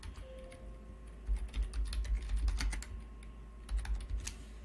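Clicky typing on a computer keyboard while entering code in Excel's VBA editor, irregular bursts of close keystrokes with short pauses, fairly quiet over a low hum.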